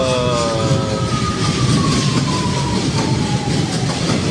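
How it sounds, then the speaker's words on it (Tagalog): Departing train heard up close: a loud continuous rumble of wheels on rails with a faint fading squeal, steady throughout and with no talking. "Wow, alis na yung train oh."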